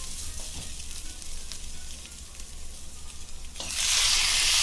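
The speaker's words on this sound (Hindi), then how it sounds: "अब ये सौंफ की पाउडर डालेंगे, उसको भुनेंगे" Fennel powder roasting in a pan while cooking Konkani chicken saroley makes a soft continuous sizzle that swells into a louder, brighter hiss near the end; there is no talk.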